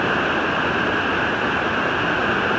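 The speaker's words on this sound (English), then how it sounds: "Wasn't expecting any more creek crossings" Creek water rushing across a hiking trail crossing on the Pacific Crest Trail, a steady close broadband wash with no letup and no voices.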